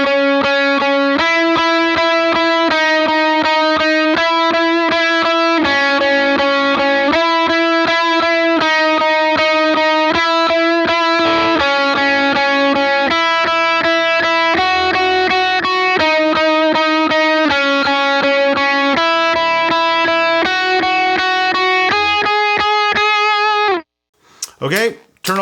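Clean electric guitar picks out a slow, steady single-note melodic line with no wet effects, each note ringing distinctly before a brief shuffle of handling noise at the very end.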